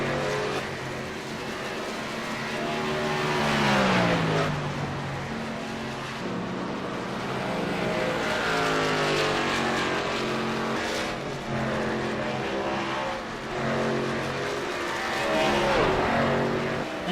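Race cars lap a circuit during a broadcast auto race, engines rising and falling as cars pass in repeated waves, loud and continuous, with no commentary heard over them.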